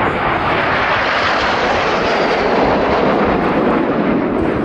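A vintage aircraft trailing red, white and blue smoke at an air display drones overhead, a loud, broad engine roar holding steady throughout.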